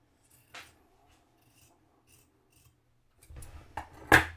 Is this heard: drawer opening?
no